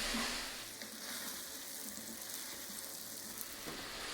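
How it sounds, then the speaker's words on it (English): Celery and carrots stirred into a beef and Guinness stew pot with garlic, making a constant frying sizzle and faint scraping from close by, with no voices. "My celery and my carrots. Give that all a good stir."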